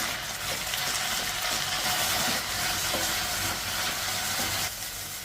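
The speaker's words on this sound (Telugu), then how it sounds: "మీడియం ఫ్లేమ్లో ఇలా కలుపుకుంటూ ఒక 2 నిమిషాలు ఫ్రై చేసేసుకోవాలి" Mint leaves frying in a pan over a medium flame, giving off a steady, even hiss of sizzling that holds for several seconds with no voices.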